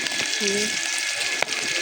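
Rida fish frying in a pan gives a steady close sizzle, with a short voice fragment and one sharp knock partway through.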